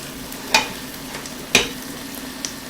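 Ingredients for cioppino sautéing together in a pan, a soft steady sizzle broken by two distinct stirring clacks and a faint third tap.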